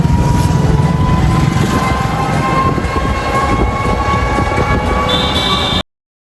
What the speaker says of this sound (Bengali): এই যে হাবড়া, ট্রেন দাঁড়িয়ে রয়েছে।